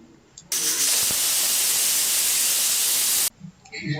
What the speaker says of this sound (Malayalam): ഇനി നമ്മൾ കുക്കർ അടച്ചു വെച്ചിട്ട് ഇതിനൊരു 4 വിസിൽ വരുന്നത് വരെ കുക്ക് ചെയ്തെടുക്കാം